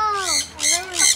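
A bird perched on a person's head squawks three times in quick succession, loud and close, each call a harsh rising-and-falling cry.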